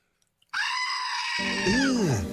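A goat gives a single loud, drawn-out bleat that wavers and bends in pitch. It starts abruptly after a moment of near silence and is heard alone.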